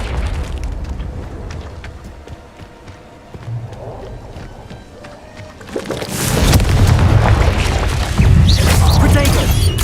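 A blasting spell explosion in the game Hogwarts Legacy, rising into a loud booming burst with crashing debris in the second half after a quieter stretch of game sounds, with speech heard earlier.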